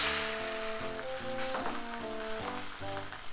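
An egg frying in a pan with about a teaspoon of sesame oil, giving a steady close sizzle and crackle throughout, with light utensil sounds and a faint tonal hum underneath.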